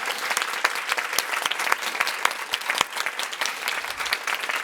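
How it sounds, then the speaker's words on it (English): A full round of audience applause at an awards ceremony, loud and continuous with a few sharp individual claps standing out near the front. "let's just do a full round of applause every time"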